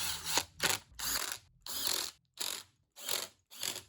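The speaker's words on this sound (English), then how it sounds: "let's tighten up those screws again" Screws being tightened on a Bosch AHS 40 24 hedge trimmer: a ratcheting screwdriver clicks in seven or eight rhythmic bursts, each a close, loud rasp separated by short pauses.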